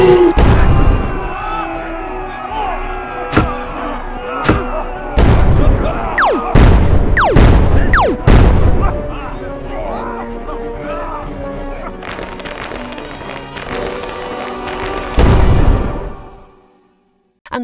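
Repeated booming explosions from the space battle in Star Wars: Return of the Jedi, sharp blasts and rumbling bursts scattered over a dense film soundtrack with music, ending in one last big explosion.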